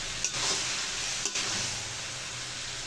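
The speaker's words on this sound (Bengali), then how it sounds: "লুডুসটা দিয়ে আমি এটাকে মিক্স করব" Food is stirred and mixed in a pan over a steady sizzling frying hiss, with a few scraping strokes near the start and middle.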